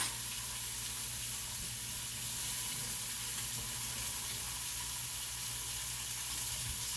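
Maple smoked bacon frying in a pan gives a steady, close, even sizzle with fine crackle that stays constant throughout.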